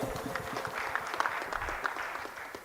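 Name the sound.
audience applause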